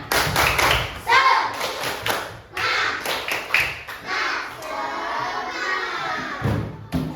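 Rhythmic classroom clapping chant led by a teacher with a primary-school class (grade 3), sharp hand claps in bursts mixed with children's and adult voices chanting along, fairly close and loud.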